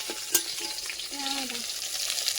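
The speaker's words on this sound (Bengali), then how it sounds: "আমাদের এখানে বেগুন ভাজা চলছে, আর একটুখানি হলে লাভিয়ে নেবো।" Eggplant slices fry in oil with a soft, steady sizzle, one sharp clink of a utensil early on and some light scraping, fairly quiet and close.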